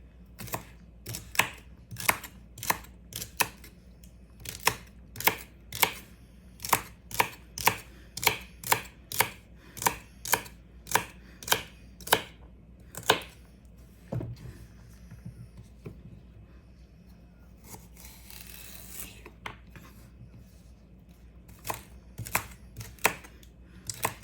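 A knife chops celery on a cutting board in a steady run of sharp, evenly spaced thunks, then pauses and resumes with a few more cuts, close and clear.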